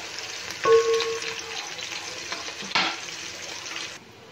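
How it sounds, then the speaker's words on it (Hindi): Whole spices (black cardamom, cloves, cinnamon, green cardamom and star anise) frying in a pan for chicken matar pulao, a soft steady sizzle with a brief stirring clatter near the start and another midway, no talk. "ये इसको अब हम गोल्डन ब्राउन करते हैं"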